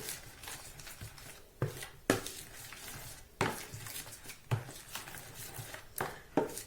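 Doughnut batter stirred in a bowl, with irregular clinks and taps of a utensil against the dish between soft wet mixing sounds, close by and without talk.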